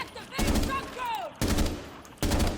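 Three loud, close bursts of gunfire shooting holes through a barricade in the video game Rainbow Six Siege, each burst short and sharp, separated by brief gaps with faint background sound.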